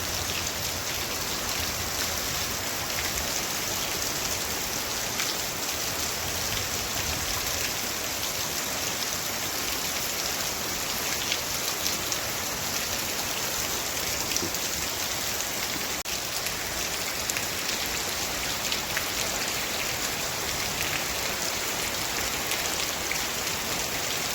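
A long stretch of steady rainfall hisses without pause, thick droplet patter on nearby surfaces holding an even, moderate level and no one speaking.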